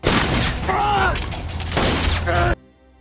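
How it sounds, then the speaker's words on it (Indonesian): Rapid bursts of gunfire in a film crackle over a tense dramatic scene with voices and music, ending abruptly into near silence. "salah satu penjahat melepaskan tembakan"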